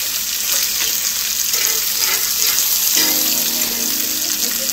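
Bacon frying in a pan on low heat gives a steady, close hiss and sizzle that runs unbroken throughout, with a brief change in texture partway through.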